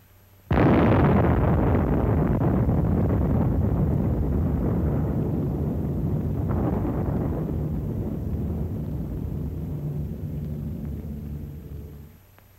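Nuclear bomb blast wave striking a forest at a test site, a sudden loud explosive onset followed by a long sustained roaring rumble that slowly fades over about eleven seconds.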